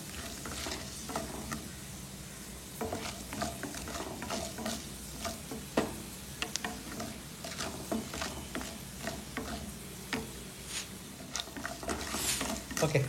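Cashews and urad dal fry gently in oil on a low flame, giving a soft, steady crackling sizzle broken by intermittent spatula stirs and taps, close up and fairly quiet, no voices.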